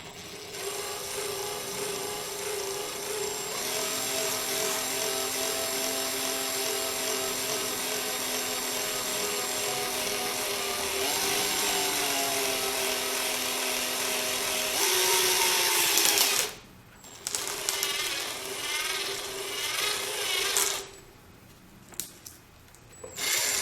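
A power drill bores holes through a plexiglass sheet into wood beneath for a model railway control panel, a steady loud whining hum with shifting tone for about sixteen seconds, then brief pauses and short renewed bursts.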